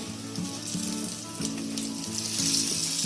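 Bread cutlets fry in hot oil in a pan, giving a steady, close crackling sizzle with a few soft bumps as pieces are turned. No one speaks.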